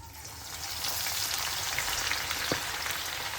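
Beef pieces drop into hot sunflower oil, producing a soft, even crackle and hiss like light rain, with one brief clink near the end and no voices.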